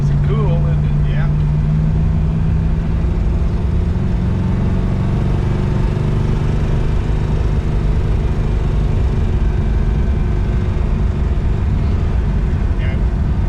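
A 1966 Chevelle engine idles loud and close, with the power steering removed, a steady rumbling drone that holds unchanged from start to finish with no break.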